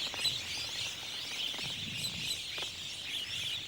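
Wattled starlings, known locally as locust birds, call across open Karoo country: a continuous wash of high chirps and chatter from a flock, steady and fairly faint with no voices over it.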